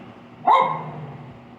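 A dog lets out one sharp, close bark that fades into a short ringing tail. No one speaks.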